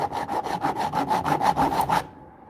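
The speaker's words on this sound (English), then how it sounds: "we're sharpening the chainsaw blade" A chainsaw chain being filed with a ceramic sharpener, giving eight or so rhythmic rasping strokes, close and fairly loud, that stop abruptly near the end.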